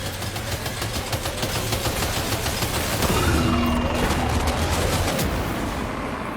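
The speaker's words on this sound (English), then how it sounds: "Opening fire now." Rapid bursts of automatic gunfire crackle through a firefight in the video game Death Stranding 2: On The Beach, loud and continuous over a low engine drone, with a heavier rumble joining midway.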